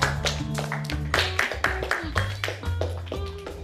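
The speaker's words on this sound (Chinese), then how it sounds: "先鼓鼓掌吧" A small group of people claps together to welcome a newcomer at a team gathering before training, with scattered, uneven applause, fairly close, and voices talking over the clapping.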